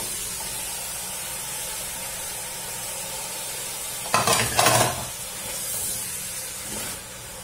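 Tomato and bell pepper dropped into a hot pan with pepper and cumin for spicy chicken gizzards, giving a burst of loud sizzling and stirring midway over a steady background hiss.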